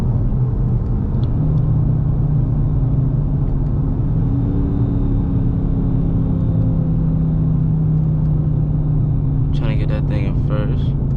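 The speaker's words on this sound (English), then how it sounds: "Let me hear those downshifts." Inside a brand-new 2020 Dodge Charger R/T, the engine hums low and continuously on the road and its pitch shifts slowly as it changes gear. A voice is heard briefly near the end.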